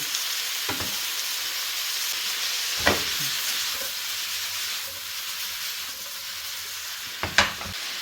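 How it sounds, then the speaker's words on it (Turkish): Mushrooms and onions sizzle steadily in a hot pan, a constant close hiss broken by a few clinks and scrapes of stirring. "mantarlarımızı soğanlarımızın üzerine ilave ediyoruz. Şöyle bir karıştıralım."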